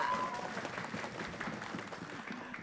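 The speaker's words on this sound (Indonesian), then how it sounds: "Tepuk tangan untuk kita semua" Studio audience applause at a televised school quiz competition, a faint, dense wash of clapping that tapers slightly toward the end, with a brief tone near the start.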